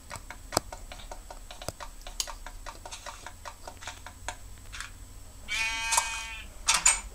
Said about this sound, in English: There's a sheep right there.